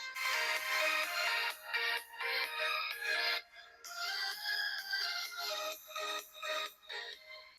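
Xiaomi Redmi A5 budget phone speaker playing at maximum volume, a loud, continuous, slightly harsh ringtone-like melody with steady rhythmic pulses and no talking.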